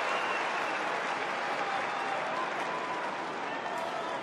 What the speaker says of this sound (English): the Melbourne fans get somebody to cheer in this second term.